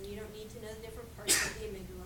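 A single sharp sneeze bursts from the audience partway through a neuroscience lecture, brief and fairly close, over the lecturer's continuing speech.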